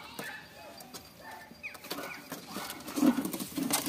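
Pigeons newly bought at an auction, a male and a female settled in a nest, give soft, low, rumbling coos that grow in the second half, over faint background noise.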